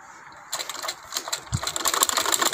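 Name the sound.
sewing machine stitching a strip of fabric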